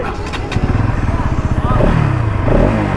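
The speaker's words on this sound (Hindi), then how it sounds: "सो यहाँ पे करते हैं बाइक को स्टार्ट।" A Bajaj Pulsar NS200 motorcycle engine fires up and settles into a loud, throbbing idle close by, with a brief rev rising near the end; a voice talks over it.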